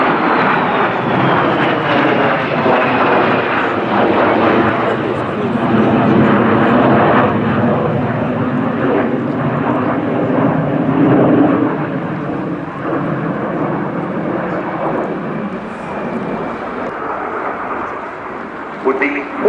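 Loud, continuous jet roar from de Havilland Vampire jet fighters flying at an air show, swelling and fading over the whole stretch with a steady broadband rumble and faint whine, and talk is heard over it at times.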